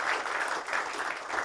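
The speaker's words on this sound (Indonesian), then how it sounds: "tepuk tangan dulu buat sponsor Anda" A crowd claps steadily, dense and even, with no voices standing out over it.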